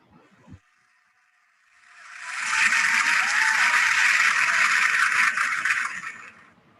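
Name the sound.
round of applause for a prize winner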